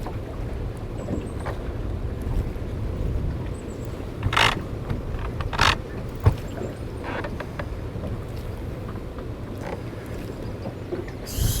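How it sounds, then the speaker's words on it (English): Strong wind buffets a fishing boat on the water, a constant low rush broken by scattered knocks and creaks from the hull and gear, with no voices. "I say a decent amount of wind, I do mean a decent amount of wind"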